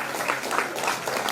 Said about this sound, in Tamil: மீண்டும் உங்கள் கரகோஷம் அவர்களுக்காக